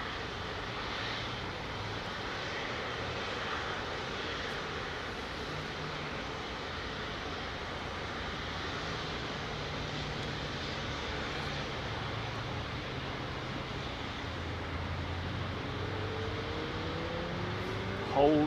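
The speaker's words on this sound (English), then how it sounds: "These aircraft appearing from my right." Aircraft taxiing at Heathrow runway 09R: a steady, continuous engine roar and rumble, close and fairly loud, holding level throughout with a slight rise at the very end.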